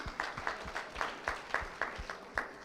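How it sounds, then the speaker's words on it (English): Audience at a lactation management and breastfeeding quiz conference claps in a steady, rhythmic pattern, a few sharp, fairly close claps per second, moderately loud with no talk over it. "clap everybody please."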